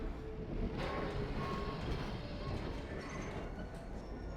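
Train ride in the Half-Life 2 video game, a dense rumbling rattle of the rolling carriage with faint tonal squeals, steady and continuous throughout.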